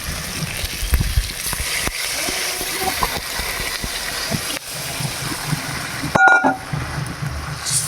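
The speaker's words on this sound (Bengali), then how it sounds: "এখন ঝোল দিব।" Hilsa fish curry gravy is poured into a pan, making a close, splashy watery pour with small clatters, a brief break, and a louder rattle near the end.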